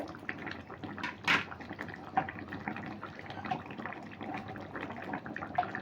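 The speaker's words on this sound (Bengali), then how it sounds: "সবশেষে দিয়ে দিচ্ছি জল ঘি" Water poured into a pot of jackfruit and paneer curry, a soft steady liquid trickle with faint splashes and light clatter running throughout, close and moderately quiet.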